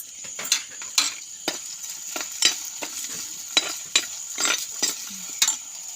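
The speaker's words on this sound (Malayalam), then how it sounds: "തക്കാളിപ്പഴം ഇട്ടു. ഇത് നല്ലതായിട്ടൊന്ന് വഴണ്ട് വരട്ടെ." Tomatoes sauté in a pan with rock salt for a fish curry, a soft sizzle broken by regular scraping and clinking stirs, about a dozen in a steady rhythm, close and without speech.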